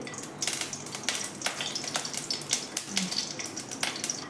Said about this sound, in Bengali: লঙ্কাটা আমার ভাজা হয়ে গেছে